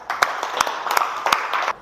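A classroom of students gives a classmate a short round of applause: sparse, uneven hand claps, about a dozen sharp hits within two seconds, moderately close and not very loud.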